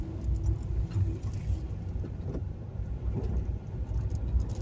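Car turning around on a rural road with cattle grids, a low steady engine rumble and tyre noise running throughout, with no voices.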